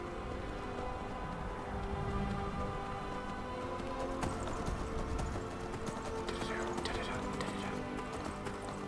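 Horse hooves clip-clopping in the video game Skyrim, a steady rhythmic run of hoof beats continuing throughout at moderate loudness beneath ambient game sounds, with no talking.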